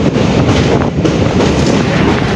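A train rolls across a bridge over the Barak river, a steady broadband rumble with wind buffeting close to the microphone throughout and faint rail clatter beneath.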